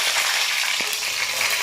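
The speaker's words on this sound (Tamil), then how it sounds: "கடுகு பொரிஞ்சிருச்சு. இப்ப கருவேப்பிலை சேர்த்துக்கலாம்." Mustard seeds and curry leaves fry in hot oil for a fish curry, a dense close sizzle with a single sharp crackle in the middle.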